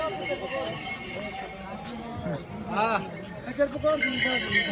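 A horse whinnies nearby on the Kedarnath pilgrimage route while people talk over steady outdoor background noise.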